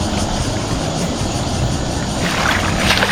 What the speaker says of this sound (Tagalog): Malakas ang alon ngayon, no? Ay, ang agos.